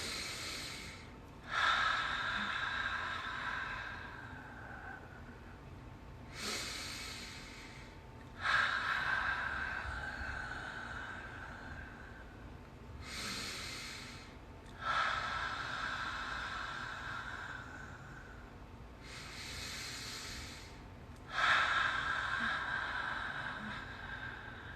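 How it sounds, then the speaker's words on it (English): Slow, deliberate breathing during a calming meditation exercise: five drawn-out inhales and exhales, close and soft, each separated by quiet pauses, over a low steady background hum. "now we're going to do 5 consecutive inhale, exhales quietly"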